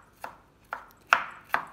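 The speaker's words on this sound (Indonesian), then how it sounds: "bawang putihnya digeprek, lalu diiris" A sharp knife cuts crushed garlic cloves on a board with four close, crisp chops in a steady rhythm, each one a distinct tap with no voices.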